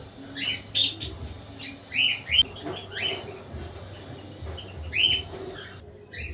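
Pet birds give a series of short, bright chirps and calls at a moderate distance while water spinach is put out for them, with a low steady hum underneath and no talk.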